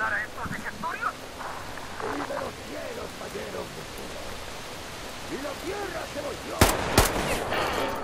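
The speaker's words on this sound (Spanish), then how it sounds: "Se pone a llover ahí a tope." Heavy rain in the video game Metro Exodus hisses as a dense, continuous wash under speech, with a couple of sharp loud bangs near the end.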